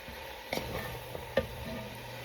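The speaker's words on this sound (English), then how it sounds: "And then you just kind of stir it up." A spoon stirs cabbage frying in a pan, giving a steady low sizzle with a few brief scraping knocks, quiet and close, no talking.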